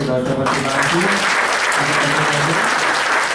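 An indoor audience at a talk by a pediatric specialist bursts into dense, loud applause that lasts several seconds, with a voice speaking over the opening moments.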